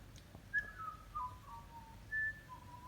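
A young butcher bird gives faint, thin whistled notes, a few short separate calls over a quiet background hum.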